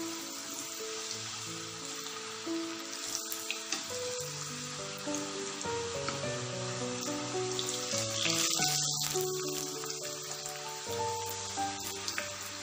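Potato French fries bubble in hot oil while being stirred, a faint, continuous sizzling hiss with occasional stirring sounds beneath quiet background music.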